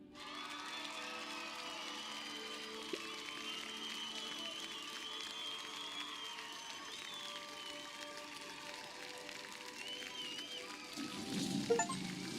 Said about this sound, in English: you smile up at Tomas, who receives a thunderous applause.